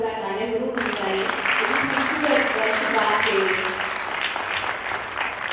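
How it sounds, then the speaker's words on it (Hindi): Audience applause at an event, a dense sustained clapping that starts abruptly after a voice and carries on loudly, with some voices mixed in. "मैं चाहूँगी एक बार जोरदार तालियां जरूर होनी चाहिए।"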